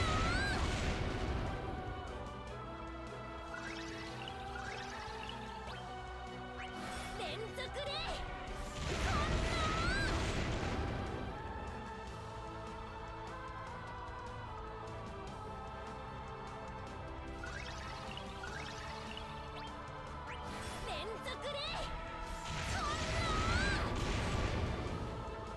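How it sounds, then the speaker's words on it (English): Ida's hardest-hitting LD attack striking a boss in the mobile battle game Dissidia Final Fantasy Opera Omnia: repeated crashing, booming impacts and whooshes over continuous loud orchestral game music, with heavier bursts of hits near the start, middle and end. "Ida's LD is her hardest hitting attack"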